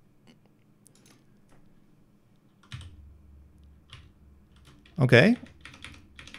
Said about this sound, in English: the keyboard is working fine in Tekken